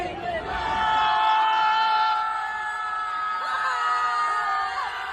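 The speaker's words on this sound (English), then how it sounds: "Scream with us!" A large crowd screams together in one sustained, loud roar of mixed voices that rises and holds, with individual shrieks and whoops standing out at a public rally.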